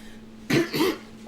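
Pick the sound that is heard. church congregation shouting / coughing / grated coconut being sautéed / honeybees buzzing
coughing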